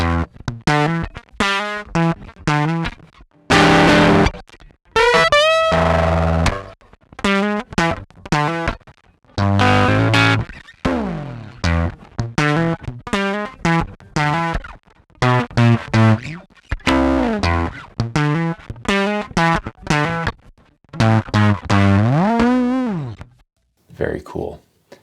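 An electric piano runs through a Kalide Collage plugin distortion effect, playing a string of loud, gritty notes and chords with choppy breaks between phrases, sounding alone.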